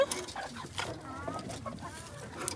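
Egg-laying hens on a small farm cluck in short, scattered bursts, fairly quiet and close, with a bit of faint background murmur.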